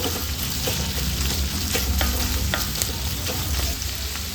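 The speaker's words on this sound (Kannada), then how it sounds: "ಈರುಳ್ಳಿ ಚೆಂದ ಫ್ರೈ ಆದ ಮೇಲೆ ತೆಂಗಿನಕಾಯಿ ಹಾಕೊಂಡು ಫ್ರೈ ಮಾಡ್ಕೊಳ್ಬೇಕು" Browned onion and grated coconut frying together in a pan for goat head curry, a loud continuous sizzle with frequent scraping stirs of a spatula against the metal, close by and free of speech.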